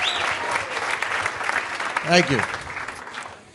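Comedy club crowd gives a round of applause for a comedian, continuous clapping throughout while someone speaks briefly over it near the end as the clapping thins out.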